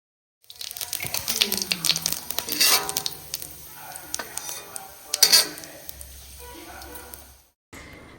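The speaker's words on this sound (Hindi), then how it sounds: "तो हींग जीरा तेल में हमने डाल दिया, तेल गरम हो गया था।" Asafoetida and cumin seeds sizzle in hot oil in a home kitchen, a steady hiss lasting several seconds with utensil clinks and voices talking over it.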